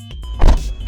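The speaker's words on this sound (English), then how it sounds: "And my favorite feature is this seatbelt extender." A seatbelt extender motor in a Mercedes convertible whirs briefly up close, a short electric buzz that swells and fades within a second.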